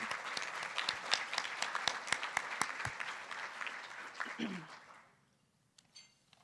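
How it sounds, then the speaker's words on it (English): Sustained applause from a dinner audience at an awards ceremony, dense and steady clapping for about five seconds before fading out into near quiet. "let's give them a round of applause as well"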